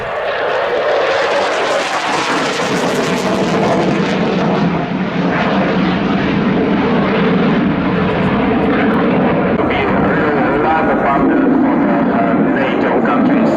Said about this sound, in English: the aircraft you can the possibility to see flying up there in the skies at the moment.